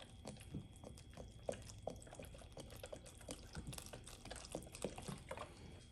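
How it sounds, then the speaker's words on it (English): Chicken broth pours and splashes into a pot, with soft irregular gurgles and drips close by, no voices. "And then we're gonna pour in our chicken broth."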